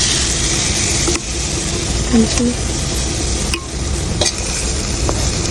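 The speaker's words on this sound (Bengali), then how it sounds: "মাংসগুলো এখন দিয়ে দিচ্ছি আমি" Meat goes into a hot frying pan with spices for a home-cooked meal, giving a loud, steady sizzle and stirring scrape throughout, with a few clinks of a utensil against the pan.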